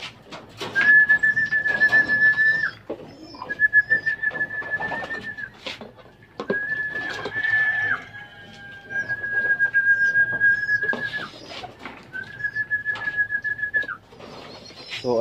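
Pigeons coo in long, steady whistling phrases, several separate calls repeating over about fifteen seconds, close and clear with light background noise.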